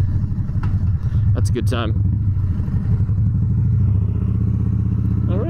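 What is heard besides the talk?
2016 Harley-Davidson Dyna Street Bob motorcycle engine while riding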